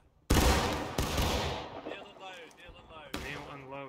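Musket volley fire in the Civil War video game War of Rights, a loud ragged crash of many shots, a second burst and a later single report, with a voice shouting.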